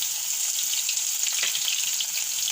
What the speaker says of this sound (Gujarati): જો આપણું તેલ ગરમ થઈ ગયું છે તો પહેલાં આપણે જીરું નાખી દેવું અને લસણ નાખી દેવું